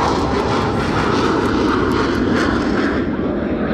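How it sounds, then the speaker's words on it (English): A U-2 spy plane's GE jet engine roars loud and continuous during a low-altitude pass, a broad, steady rumble that fades slightly toward the end. "The engine on the U2, the GE engine, is the same engine that's on the B2."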